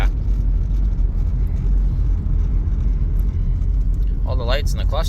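A 2000 Chrysler Grand Voyager SE minivan driving after years off the road, heard from inside as a loud, steady low rumble of engine and road noise, with a brief higher squeal or voice near the end.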